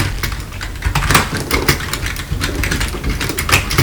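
Rapid, continuous clacking of mechanical keyboard keys close up, with a fast uneven rhythm and no voices.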